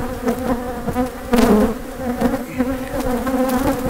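Honey bees buzz steadily and loudly around an open hive during fall beekeeping, a dense close swarm hum with swells as the nuc boxes are handled.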